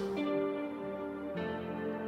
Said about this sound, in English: So you can hear keys, you can hear multiple guitar parts.